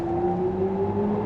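A BMW iX xDrive40 electric car drives with a steady, deep synthesized hum, close and moderately loud, holding an even tone throughout with no talk.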